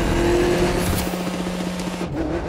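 A race car revs at the start of a race in The Crew 2 video game, a loud, steady engine drone with a sustained tone that cuts off near the end.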